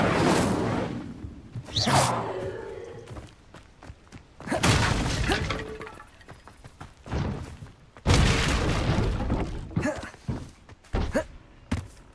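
Incendio fire spell cast in the Hogwarts Legacy video game, loud whooshing bursts and booming impacts repeating in waves, interleaved with thuds and footsteps.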